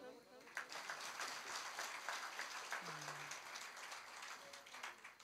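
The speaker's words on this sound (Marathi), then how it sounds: "वाजा बरं टाळी" Scattered applause from a crowd, uneven and fairly soft, with a murmur of voices in the room.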